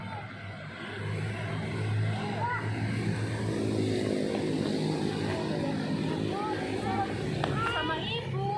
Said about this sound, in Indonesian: Itu ada pesawat.